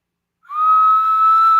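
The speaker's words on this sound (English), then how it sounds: "This is a stoneware bird whistle." An old stoneware bird whistle, about 150 years old and dug up from a dump, is blown in one sustained, clear, loud whistle with a slight waver, heard alone at close range.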